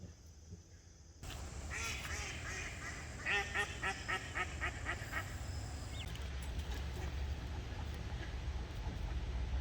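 Ducks at a creekside campground in Edinburg, Virginia quack in a busy, overlapping chorus, with rapid repeated calls, some close and some farther off, over steady outdoor background noise.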